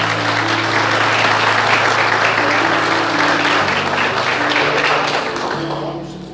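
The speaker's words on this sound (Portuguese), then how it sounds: "Pode aplaudir Jesus então, vai." A church congregation applauds during a celebration service, a loud, dense, sustained roar of many hands clapping. Steady sustained tones sound underneath, and the clapping eases off toward the end.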